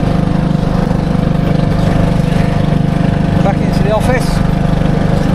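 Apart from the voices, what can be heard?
lawn mower engine running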